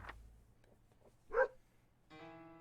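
A single short dog bark sounds from the survival video game 60 Seconds 2, quiet and isolated, followed by a brief tonal game jingle.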